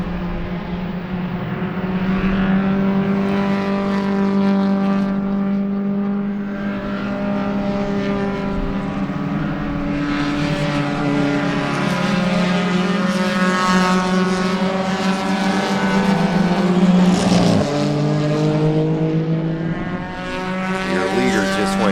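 BMW and Spec Racer Ford race cars battle in a pack at Sebring during a 2-hour enduro, their engines droning loud and continuous, pitch rising and falling with brief dips as gears change.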